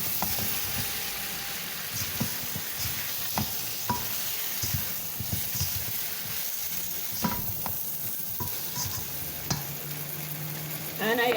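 Curry sauce mix is stirred into chicken in a sizzling pan, a low steady frying hiss punctuated by repeated spoon scrapes and knocks against the pan, close and without talk.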